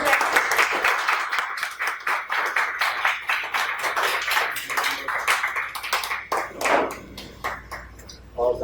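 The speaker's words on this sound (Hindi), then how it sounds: "जोरदार तालियां।" Loud audience applause at a Chhattisgarhi poetry event during a token-of-gratitude presentation, rapid uneven clapping from a crowd that swells and then thins toward the end.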